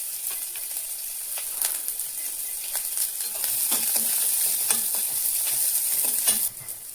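Chopped onion, garlic and ginger fry in hot oil with a bright, steady sizzle, punctuated by repeated stirring scrapes and clicks close by.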